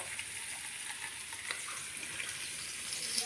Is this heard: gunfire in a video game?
no